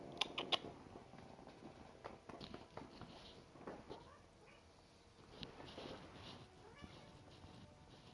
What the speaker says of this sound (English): Oh, come here, kitty.